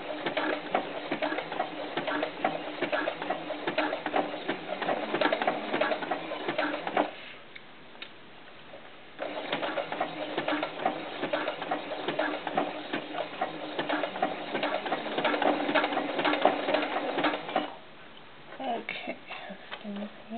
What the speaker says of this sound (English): But use that pin to hold it down as you sew.